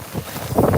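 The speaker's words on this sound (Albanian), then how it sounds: "këtu ka shumë erë" Strong gusts buffet a microphone outdoors in snowy, icy conditions, a loud low rumble of wind noise that swells toward the end; no speech.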